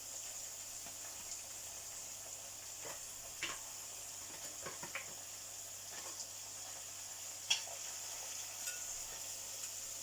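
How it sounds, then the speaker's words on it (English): Minced meat frying in a pan for homemade lasagna, a steady soft sizzle running throughout with scattered scrapes and light taps of stirring, one sharper knock near the end. "Once I put this minced meat, I'm gonna keep stirring until it's brown"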